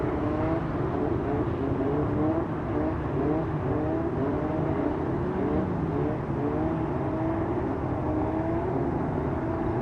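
Formula Vee race cars idling and blipping their engines on the grid before the start, a continuous layered drone of several motors at moderate distance with wavering pitch and no voices.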